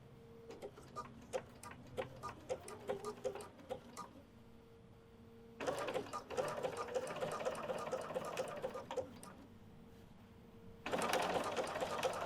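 Sewing machine stitching a pillow: rapid mechanical whirring bursts with ticking needle strokes, separated by short pauses, close and clear.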